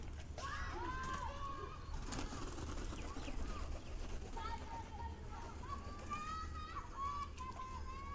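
Bombay pigeons coo in soft repeated rolling calls at close range, with faint bird chatter and background noise between the coos.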